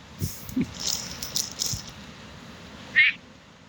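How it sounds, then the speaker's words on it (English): A few short, rattling croaks from a frog close by, scattered over a few seconds against quiet background hiss, ending with one sharper call. "it's a frog"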